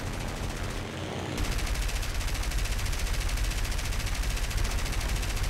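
Rapid automatic gunfire in the War Thunder combat game, a dense continuous rattle of shots over loud engine roar, steady and close for several seconds without a break.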